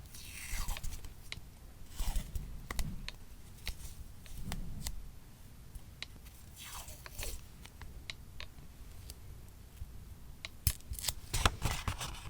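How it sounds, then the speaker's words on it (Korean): Foil-textured vintage-pattern masking tape from Daiso is torn by hand, making a series of crisp ripping and crinkling bursts spread across the stretch, close and fairly loud, with no talking. "딱 이 마스킹 테이프를 손으로 찢어보니까 딱 그 느낌이에요"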